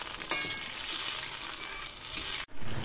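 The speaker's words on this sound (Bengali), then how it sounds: "চিকেন বল দিয়ে খুব ভালো করে নেড়ে নেব" Chicken balls sizzle and crackle in a hot pan as they are stirred, a steady bright frying hiss with a few scraping strokes, close and alone, cut off by a sharp pause near the end.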